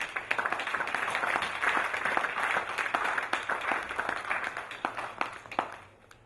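A church congregation applauding and acclaiming the Lord during a Sunday worship service, a steady wash of many hands clapping at moderate volume that fades toward the end.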